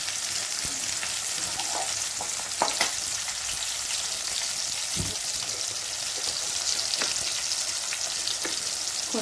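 Tomatoes frying in a pan for chicken gravy, a steady dense sizzle throughout with occasional stirring scrapes and small pops, close and continuous with no voices.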